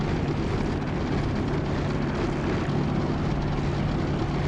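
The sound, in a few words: propeller aircraft engine during magneto check, DCS flight simulator video game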